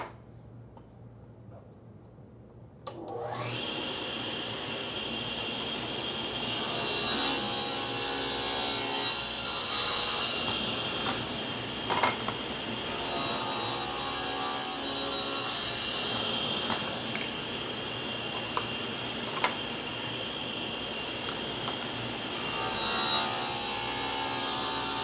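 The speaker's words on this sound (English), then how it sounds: "we're ready to mill the grooves, and all of our pieces, the rails and the stiles, both get a groove." Wooden rails and stiles for face frame cabinets get grooves milled into them, a steady loud machine roar starting after a few seconds of quiet and running throughout with brief cutting surges, no talking.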